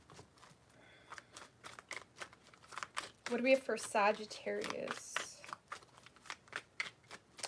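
Tarot cards are shuffled in a string of quick riffling snaps and soft slaps, close and fairly quiet, while a voice speaks briefly in the middle.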